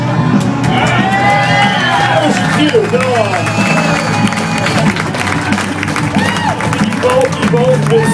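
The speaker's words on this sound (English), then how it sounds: "folks, let's give him an applause." A festival crowd applauds and cheers for the sound engineer Big Mick at an Orion Music & More fan club Q&A, with loud sustained clapping, whoops and shouts under close talk throughout.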